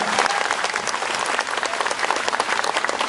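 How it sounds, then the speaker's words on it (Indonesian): Loud, continuous applause from an audience at a religious gathering in Taiwan, a thick steady patter of many hands clapping without a break. "Kasih tepuk tangan buat beliau."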